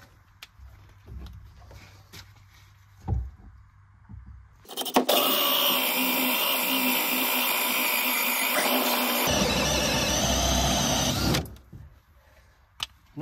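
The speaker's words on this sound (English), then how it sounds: "And then drill our second hole." Power drill boring a hole through a plastic underground water tank, a loud continuous whirring grind lasting about six seconds with a shift in pitch midway, preceded and followed by quiet handling noises.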